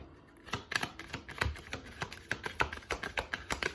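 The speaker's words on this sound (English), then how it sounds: "I'm going to shuffle these like a lot of times." Quick, rapid clicking and snapping of cards being shuffled close up, a fast irregular patter lasting a few seconds with no voices.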